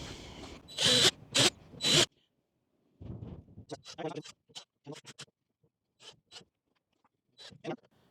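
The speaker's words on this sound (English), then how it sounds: "I'm going to make a small pilot hole and then just put those screws in." Drill boring a small pilot hole and then driving stainless steel screws into a plastic water tank, heard as a few loud close bursts early on, followed by shorter intermittent whirs and scrapes.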